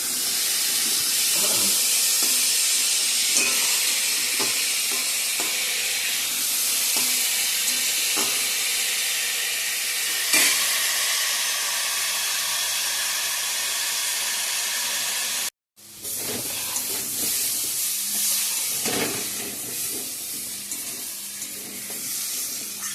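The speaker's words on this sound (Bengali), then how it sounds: "সবজিটা আমার ভাজা ভাজা হয়ে গেছে" Potato and malabar spinach frying with spices in a pan, a loud, continuous sizzle and hiss with occasional scraping stirs, cut by a brief silence near the end before the frying resumes.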